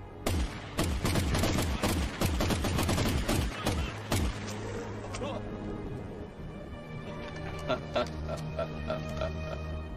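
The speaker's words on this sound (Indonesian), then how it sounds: "Dan pasukan Abuelo menembak Miguel dengan bertubi-tubi namun semua pelurunya tak mempan terhadapnya." Troops fire guns repeatedly in an animated film, with dense close volleys of rapid gunshots that thin out into scattered shots. Voices speak under the firing.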